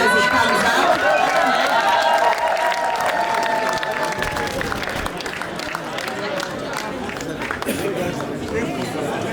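Sustained audience applause at an awards recognition night runs throughout, a dense crowd of clapping hands with chatter and a voice over a public address system above it, the clapping easing slightly midway.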